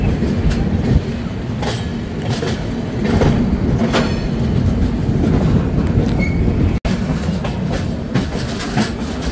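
The 13022 Mithila Express running on rails from Raxaul toward Howrah, heard from inside a 2AC coach: a steady loud rumble with rhythmic clickety-clack of wheels over rail joints and occasional faint squeals.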